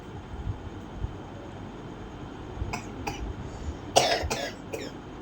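A few short coughs from a person indoors, two light ones followed by a louder, closer burst of two or three coughs, over a steady background hiss.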